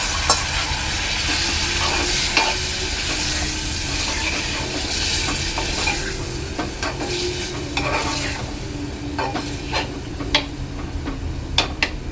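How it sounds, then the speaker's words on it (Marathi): Chicken pieces sizzle and crackle steadily in hot oil while being stir-fried, with frequent scraping and clinking of a spatula against the pan close up. "आता इथे मी आपलं चिकन ह्याच्यामध्ये परतून घेणार आहे तेलात"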